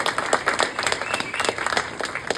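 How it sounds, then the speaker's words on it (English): Comedy club crowd at Comedy Cabin in Janesville, Wisconsin, applauding the staff, a lively round of many hands clapping close and loud, with individual sharp claps standing out through the steady roar. "a real big round of applause to the staff here at Comedy Cabin"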